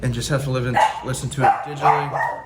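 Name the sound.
dog barking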